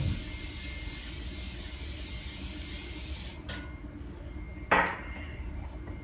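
Cooking spray hisses into a pan in a home kitchen in two short bursts, the second louder, over a steady background hum.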